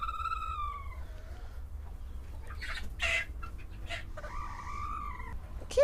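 A broody hen in a box lets out agitated squawks and clucks, a few sharp calls rising and falling over a low steady background hum, fairly close and alone.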